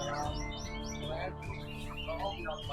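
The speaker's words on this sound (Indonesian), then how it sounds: "Oh ini jalak Bali ya." A caged Bali myna at a bird market gives a quick series of chirps and whistles over steady background hum and crowd noise.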